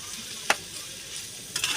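Food stir-fried in ghee sizzles steadily in a pan, with two sharp scraping stirs of the spoon, one short and one longer, over the constant soft hiss.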